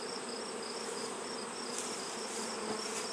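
Honeybees droning around a backyard hive in late summer, a dense continuous buzz close by with no voices.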